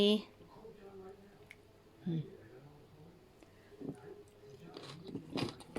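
Crunchy homemade Thai-style kimchi being chewed close to the mic, with a few soft bites and wet crunches scattered through a quiet stretch, then louder chewing near the end.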